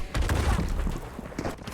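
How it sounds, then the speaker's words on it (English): Gunfire in a competitive video game match, a burst of dull booming shots in quick succession, loud and close, then fading into a softer crack near the end. "Final gunshot onto Alpha"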